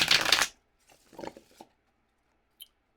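A quick, crisp burst of tarot cards being shuffled, followed by a softer riffle, then near silence broken by one faint tap.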